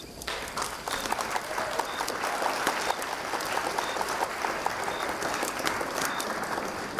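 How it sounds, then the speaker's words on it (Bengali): A dense burst of applause from many hands, steady and sustained throughout with a faint murmur beneath. "তারপর আমরা সকলেই একসঙ্গে হাততালি দিয়ে উঠলাম।"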